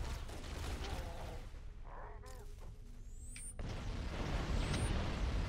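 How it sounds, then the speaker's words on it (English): A chain of explosions goes off in Halo CE co-op play, a rough rumbling burst of blasts with whooshing and high zipping effects, fairly quiet in the mix and without speech. "Lots of explosion chain reaction."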